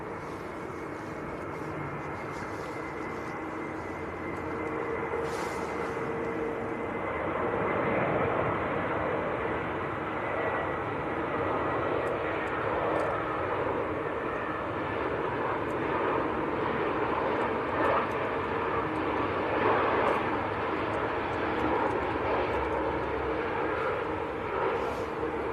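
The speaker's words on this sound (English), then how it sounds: "Next to land, around about half a mile out actually, Lufthansa. An A319 coming in from Frankfurt." A Lufthansa Airbus A319 from Frankfurt landing at Manchester Airport, its engine rumble building from a quieter start into a sustained roar as it passes nearby.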